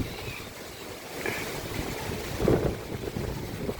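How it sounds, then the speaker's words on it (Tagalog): Strong winds of Super Typhoon Uwan roar through Nasugbu, Batangas in a steady, moderate rushing wash, with a brief louder gust midway and faint background sounds. "Yung hangin oh."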